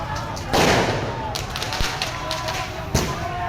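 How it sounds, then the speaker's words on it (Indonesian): Firecrackers go off during a street clash between protesters and police outside a regional parliament building in Karawang, West Java: a sharp nearby blast followed by a noisy crowd din and a second crack a few seconds later. "demonstran melempar batu dan petasan ke arah petugas"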